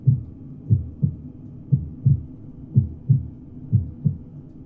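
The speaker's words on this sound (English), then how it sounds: "we can hear the heartbeat of Mother Earth" A steady heartbeat thumps in a low, muffled double rhythm, roughly nine soft beats at an even pace, alone without voices as part of a guided meditation soundscape.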